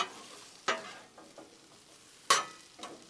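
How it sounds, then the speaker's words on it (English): Potatoes being stirred on a Blackstone griddle: a low frying sizzle runs throughout, broken by a few sharp scraping strokes of a spatula, spaced well apart. "just keep things stirred up, I don't know, every few minutes or so, just so your taters don't burn on one side"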